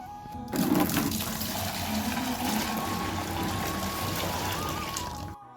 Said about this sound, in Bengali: তো গরম জল দিয়েছিলাম, তো এই যে গরম জল দিয়ে স্নান করলাম।